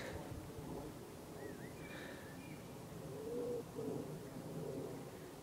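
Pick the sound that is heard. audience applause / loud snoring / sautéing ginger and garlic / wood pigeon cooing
wood pigeon cooing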